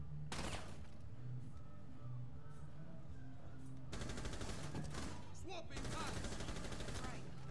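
Gunfire in the video game Rainbow Six Siege, bursts of rapid automatic shots and sharp reports in two clusters, loud and close over the game's background hum, with no speech.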